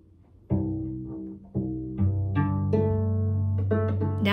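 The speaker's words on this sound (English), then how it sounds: "this is the sound of my cello as I'm tuning it up for practice." Cello being tuned for practice: single bowed notes and open-string pairs ring out one after another, growing into sustained double stops, close and clear with no voice.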